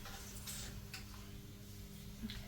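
Curry leaves are sprinkled over fish frying in oil, a steady soft sizzle with a few faint crackles and taps over a brief moment.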